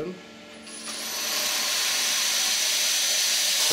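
A grinder runs against a knife blade while a false edge is ground, its abrasive hiss swelling from a quieter start into a loud, steady, close grinding rush that holds to the end.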